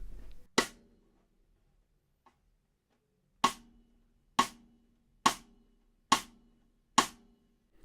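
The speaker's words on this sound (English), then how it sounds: "Some people call it rim click, cross stick, side stick." Six sharp, high-pitched rim clicks struck cross-stick on a drum kit, each a dry isolated snap with a quick decay, irregularly spaced across near silence.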